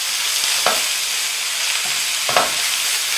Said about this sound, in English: We're going to saute these.